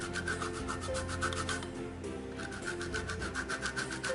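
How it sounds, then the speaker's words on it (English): Orange zest scraped on a small hand grater gives rhythmic, raspy rubbing strokes close up, with a short pause midway, no talk. "So I'm just going to grate the zest of the orange."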